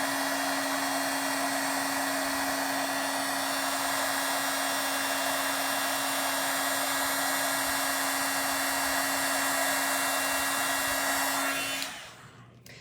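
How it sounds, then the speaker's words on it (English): A heat embossing tool blows a steady, loud whirring hiss while melting clear embossing powder on paper, running continuously before cutting off near the end. "There's gonna be noise while I heat emboss"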